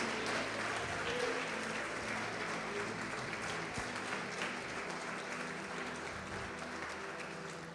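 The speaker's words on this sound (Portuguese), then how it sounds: "Vamos aplaudir o Senhor Jesus e vamos glorificar o nosso Deus." A church congregation claps steadily and loudly throughout, a dense continuous wash of applause that fades only slightly toward the end, with no voices standing out.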